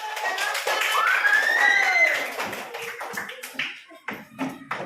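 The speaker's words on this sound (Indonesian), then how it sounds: "Beri tepuk tangan." A classroom group of students claps in quick, uneven bursts of taps. A voice carries over the start, and the clapping thins into scattered claps toward the end.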